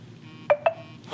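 An email notification on a Vivo X200 Ultra phone: two short, bright beeps in quick succession, clear and close against a quiet background.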